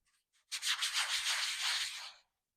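A close, gritty rub of a sand-textured tarot card, a single scratchy stroke lasting under two seconds after a couple of faint touches.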